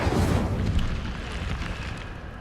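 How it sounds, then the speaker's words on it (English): The Incendio fire spell is cast in Hogwarts Legacy, a loud, dense burst of roaring, crackling flame that starts strong and slowly eases off. "I feel like this is a fire spell."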